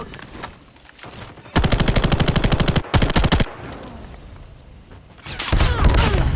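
Rapid automatic fire from a Bruen MK9 in Call of Duty Mobile comes in three loud, close bursts: a long stream, a short follow-up after a brief gap, and another sustained burst after a quieter stretch.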